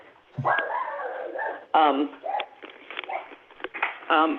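A dog barks and whimpers nearby during a remote committee meeting, with short yips and whining cries mixed with a person's voice and rustling handling noise.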